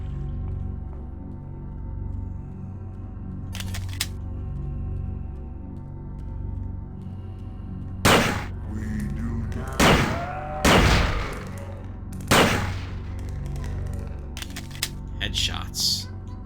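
Gunfire in the video game System Shock 2, with anti-personnel rounds: several sharp, loud shots in quick bursts over a low game ambience, with a pause before the shooting begins.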